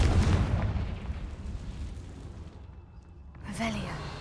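A Confringo blasting spell explodes in Hogwarts Legacy, a loud booming burst that starts at full force, rumbles, and fades over a few seconds, with a short ringing effect near the end.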